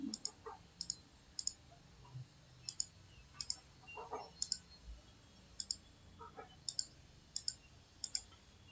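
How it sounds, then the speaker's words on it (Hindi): A computer mouse clicks crisply and quietly in short, irregularly spaced taps while the Photoshop lasso tool is used, with little else audible. "थोड़े थोड़े डिस्टेंस पर क्लिक करेंगे ताकि वो कर्व शेप वहाँ से प्रॉपर सेट हो जाए"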